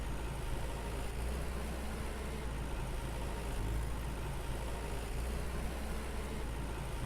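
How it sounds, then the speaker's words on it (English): A steady, low tractor engine idle in the game Farmer's Dynasty hums continuously at an even level, a mechanical drone with no voices over it. "I forgot to fuel the tractor."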